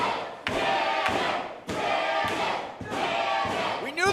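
A crowd at an 880 Wrestling championship match roars and chants in repeated surges, loud and close, with sharp cutoffs between bursts and a commentator's voice entering at the end.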